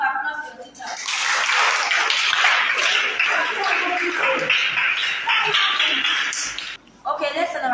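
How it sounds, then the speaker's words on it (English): Schoolchildren at a free school event clap for their teacher in a dense, sustained round of applause lasting several seconds, close and fairly loud, then a short pause and a final burst of claps with children's voices mixed in. "I want to applaud your teacher."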